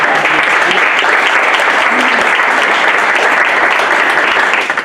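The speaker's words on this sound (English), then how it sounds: "We're going to give you a round of applause and Brian." A large audience applauds in one loud, dense, continuous wash of clapping that holds steady for about five seconds and begins to thin out right at the end.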